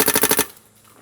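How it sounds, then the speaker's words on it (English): A Smart Parts Ion XE paintball marker fires a rapid burst of about five sharp, loud shots in half a second, then falls silent outdoors. "So there, we'll shoot up there as well."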